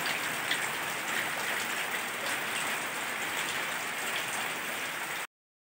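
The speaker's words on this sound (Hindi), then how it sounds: "इतनी भयानक बारिश हो रही है" Heavy rain pours down steadily in a dense, hissing wash that stays constant throughout, with no voices.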